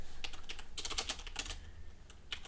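Rapid bursts of keystrokes on a computer keyboard as a terminal command is typed on a Linux machine, close and crisp, in irregular clusters with short pauses and no talking.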